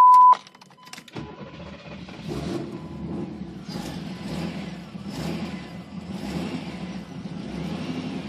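A cold-blooded Corvette engine cranks and catches after a sharp initial burst, then settles into a loud, steady rough running note with rhythmic pulsing revs throughout, close to the microphone and with no talking.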